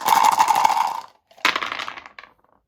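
Seven dice are rolled during an Axis and Allies board game, a loud clattering rattle for about a second, a brief pause, then a second burst of tumbling clicks that settles into a few final taps.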